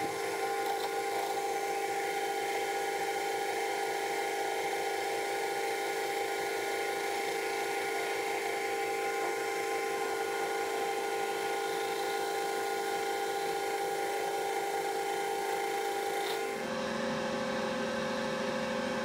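An MT3 fly cutter spins on a milling machine facing metal, giving a steady whining hum with a faint rasp that runs unbroken for about sixteen seconds before the cut ends and the tone drops.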